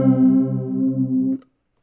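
A sustained guitar note runs through a flanger effect, its tone sweeping with a swirling comb-filtered shimmer, loud and alone, before cutting off abruptly after about a second and a half.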